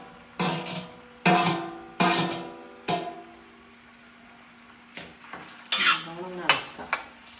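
A metal spoon stirs amla pickle in a pan while it sautés in oil, giving sharp clanks and scrapes in short bursts with pauses between, with a faint sizzle underneath and no talk.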